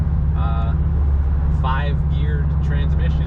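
2016 Subaru WRX STI cruising in sixth gear, a steady low engine drone and road rumble filling the cabin beneath someone speaking.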